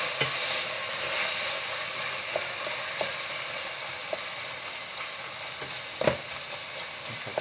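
String beans sautéing for adobong sitaw, a loud, continuous hissing sizzle from the pan with occasional light stirring knocks, close and without talk.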